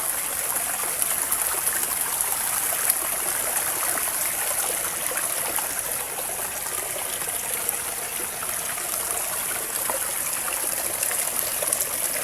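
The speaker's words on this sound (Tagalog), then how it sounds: "So yan ang tubig." A forest stream flows steadily nearby, a constant loud rushing and babbling of water with no speech.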